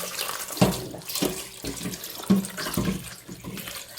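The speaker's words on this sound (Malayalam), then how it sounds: "അപ്പോൾ അത് നമ്മൾ നല്ലപോലെ ഒന്ന് കഴുകിയെടുക്കണം" Running tap water splashes steadily over a leaf being washed by hand at a sink, with loud uneven gushes and splatters as the leaf is turned under the stream.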